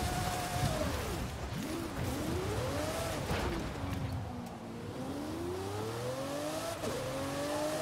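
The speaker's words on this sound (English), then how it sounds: "This car sounds great though." An off-road-built Lamborghini Diablo SV revving in a driving game: the engine pitch sweeps up and down repeatedly as it accelerates and eases off, loud and continuous with no voices over it.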